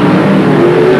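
Stock race cars roar loudly around the Midwest Speedway oval in Lincoln, Nebraska, engines droning steadily with one rising in pitch, and no talk over it.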